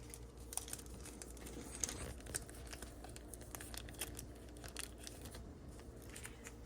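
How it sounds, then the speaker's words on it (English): Sour cream packets are snipped open and squeezed into a bowl, producing soft crinkling, tearing and small clicking sounds scattered steadily throughout, close and fairly quiet. "Just going to cut the tops off and squeeze it in the bowl."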